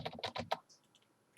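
Rapid burst of typing on a computer keyboard, about half a dozen close, crisp keystrokes in quick succession, then a few faint isolated clicks after a pause.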